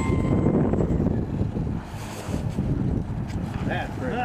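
Strong wind buffets the microphone outdoors in a continuous low, rough roar, with a faint voice rising briefly near the end.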